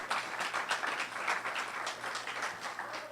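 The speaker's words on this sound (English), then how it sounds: "please don't clap for me" An audience at a voter suppression and election fraud forum breaks into steady, dense applause, a sustained wash of many hands clapping at moderate distance.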